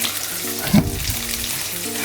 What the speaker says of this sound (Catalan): I tirarem un raig d'oli i posarem a fregir el pebrot